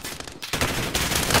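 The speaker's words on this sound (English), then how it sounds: "getting shot from everywhere" Gunfire in Call of Duty Warzone on the Rebirth map, with loud, rapid automatic bursts cracking in quick succession, a brief gap, then sustained shooting that builds toward the end.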